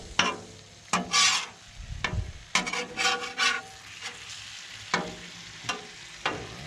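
Blackened catfish cooks on a Blackstone griddle: a steady sizzle under sharp spatula scrapes and taps, several distinct strokes in quick succession, close up with no voices.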